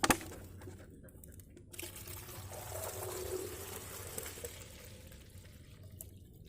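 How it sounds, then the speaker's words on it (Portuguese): Water pours into a plastic PET bottle rigged as a drip irrigator, a steady trickling and splashing stream lasting several seconds, moderately loud and close with no talking. "Agora nós vamos colocar a água."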